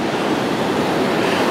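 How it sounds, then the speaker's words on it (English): Ocean surf rolling onto a beach, a steady broadband wash of breaking waves with light wind noise, moderately loud and continuous with no talk. "A little ocean for you."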